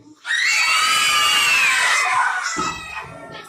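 A group of children shout together in one loud, sustained, high-pitched yell lasting about two seconds during a self-defence demonstration, fading into scattered voices.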